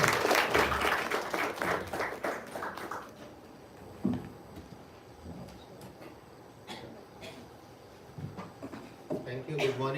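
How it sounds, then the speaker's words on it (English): An audience applauds to welcome a speaker at an Indian Institute of Public Administration training programme on anti-corruption law: a short burst of clapping for about three seconds, then it fades into a quiet room with scattered small knocks. "A big round of applause to welcome him."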